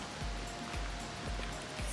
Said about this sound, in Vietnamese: Trong đó còn có suối nữa đó.